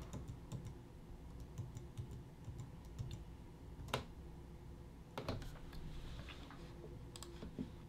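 Computer keyboard keys, arrow keys and the P key, tapped in quick irregular bursts at close range while sorting images in Lightroom Classic, with a couple of sharper louder keystrokes standing out over a low room hum.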